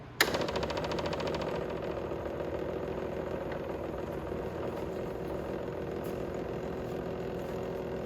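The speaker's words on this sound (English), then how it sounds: "let's turn the key, let's watch our pump start pumping" A 125cc mini jeep's engine starts with a brief crank, then idles at a steady mid-pitched hum with its fuel pump running, continuous and fairly close throughout.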